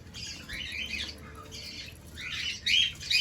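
Pet budgies, sky blue in colour, squawk and chatter in a breeding setup, with harsh bursts of loud calls coming in bunches and short pauses between them.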